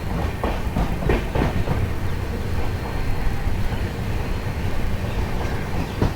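The 12345 Howrah–Guwahati Saraighat Express runs through Khana Junction station in India with a loud, steady rolling rumble and repeated clattering wheel beats over the rails, continuous and close, with no voices.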